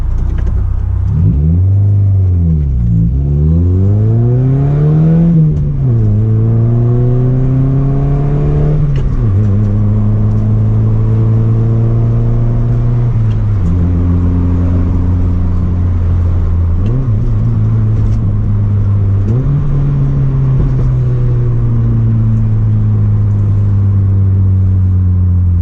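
A manual car engine revs up and drops repeatedly as it shifts through the gears, each rising drone falling away at the change, loud and close for the whole stretch with no talking.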